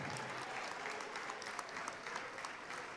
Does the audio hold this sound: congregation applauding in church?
yes